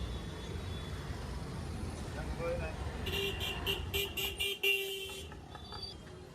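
Busy market street traffic in Patan, thick with auto rickshaws, a steady rumble of engines and crowd under talk, with a burst of repeated horn toots from about the midpoint onward.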